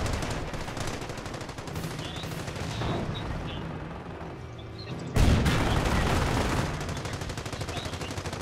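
Tanks assault a player's base in the World War II strategy game Company of Heroes, with a continuous din of machine-gun fire and explosions that swells into a louder, denser burst partway through, with no talk.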